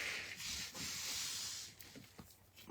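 A hand rubbing over cardboard, making a close, steady scratchy swish in long continuous strokes with a few short pauses, and no talking.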